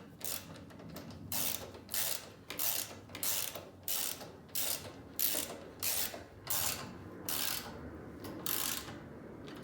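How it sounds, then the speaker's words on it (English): Ratchet wrench tightening a foot peg bolt on a Coleman CT200U mini bike, a series of about a dozen quick ratcheting clicks in regular strokes, close and fairly quiet. "grab a wrench"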